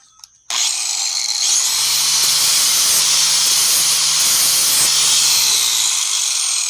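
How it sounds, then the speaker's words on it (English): Bench grinder sharpening John Deere X495 mower deck blades, starting abruptly after a brief quiet moment, then a loud, steady, hissing grind with a low motor hum underneath that lasts to the end with no speech. "The way I like to sharpen blades is I lightly go over it and see where the high spots are."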